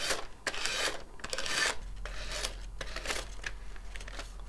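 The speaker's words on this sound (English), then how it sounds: "I'm going to be really focusing on the edge of my plate and only pulling my sanding block down." A sanding block rasps repeatedly down the edge of a decoupaged glass plate, giving close, dry scratching strokes in an irregular rhythm with no talking.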